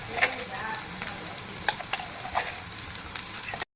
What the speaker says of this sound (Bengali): আলু বিনসটা দিয়ে দিচ্ছি। এটাকে ভাজা করে নিতে হবে।